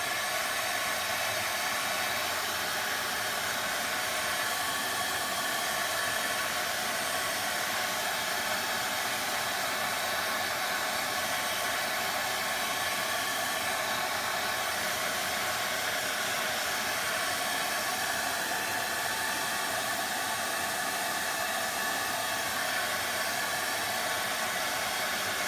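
Hair dryer blowing steadily to dry a freshly painted tea-stained finish, a constant close airy whoosh and hiss for about twenty-five seconds with no change in pitch.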